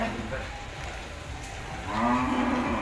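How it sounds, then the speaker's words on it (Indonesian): Lumajang cattle at a Javanese livestock contest let out a loud, low moo near the end, over crowd murmur and background noise. "Ini seperti sapi Lumajang ya?"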